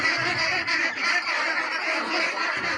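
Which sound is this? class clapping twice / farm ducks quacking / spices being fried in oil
farm ducks quacking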